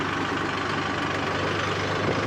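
Tractor engine running steadily on a farm, a continuous low, rough rumble held at an even level throughout, with no voices over it.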